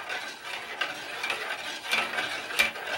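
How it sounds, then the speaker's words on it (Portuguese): A cornstarch and condensed milk cream being stirred in a pan, soft scraping and swishing strokes repeating at a steady pace with occasional light metallic clicks, close and moderately quiet. "Agora, pessoal, vou mexer até virar um creme"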